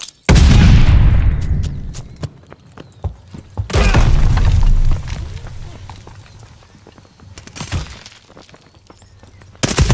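A stun grenade in the shooter Call of Duty: Vanguard lands with a sharp, loud bang, and a second blast follows a few seconds later. Scattered clatter and game noise fill the gaps between them.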